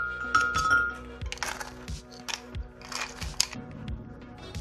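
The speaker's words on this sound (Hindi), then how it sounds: "और ये बर्फ के टुकड़े हैं।" Ice cubes drop into a jug while cherry juice is being made, giving a run of sharp glassy clinks and clatters at an uneven rhythm, close and moderately loud.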